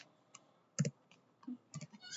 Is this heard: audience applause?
no